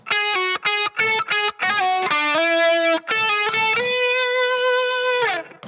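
A distorted electric guitar plays a quick lick of short staccato notes, then bends into a long sustained note.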